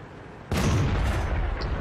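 An artillery shell strikes in the World of Tanks video game, a single sudden loud boom after a quiet lead-in, followed by a rumbling, crackling tail that lingers to the end.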